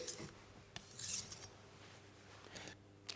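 Faint, scattered scraping strokes of a kitchen knife blade being sharpened, drawn in one direction at a steady angle, with soft metallic rasps separated by quiet gaps.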